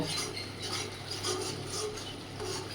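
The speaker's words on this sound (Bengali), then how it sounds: "ভালো করে একটু কষিয়ে নেব দু মিনিট ভালো করে কষিয়ে নেব" A spoon stirs and scrapes spice paste sautéing in a pan, making quiet rhythmic rubbing and scraping strokes close up with a faint sizzle underneath.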